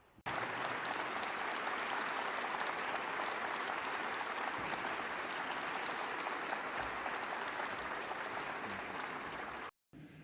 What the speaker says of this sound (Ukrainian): і також оплески вам